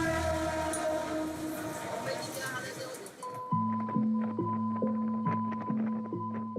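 A packed Mumbai commuter train rumbles along with a steady, loud broadband roar for about three seconds, then gives way to a rhythmic, tonal pulsing pattern.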